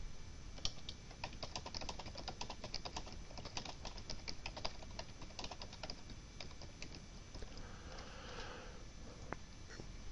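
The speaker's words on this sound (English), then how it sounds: "So you type in your message" A computer keyboard is typed on in a long, fast run of light, irregular clicks and taps. The sound is close and steady throughout, with no voices.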